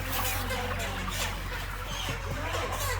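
Chickens clucking and squawking in a dense, continuous din as they are caught at night in a darkened poultry shed, many birds calling at once close by, no one talking.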